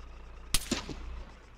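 A single distant gunshot cracks in the Arma 3 video game, followed by a brief echoing tail, set against a quiet background.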